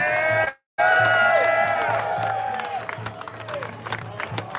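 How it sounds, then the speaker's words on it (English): An outdoor crowd at a ribfest eating contest breaks into applause and cheers after the contestants put down their ribs, with whoops and voices over the clapping and a low beat of music underneath. "How about a round of applause for all our contestants?"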